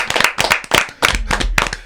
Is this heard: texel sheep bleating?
no